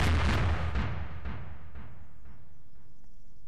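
A heavy explosion in Garry's Mod, a sharp booming blast up close followed by a few rapid rumbling after-bursts that fade out over a few seconds.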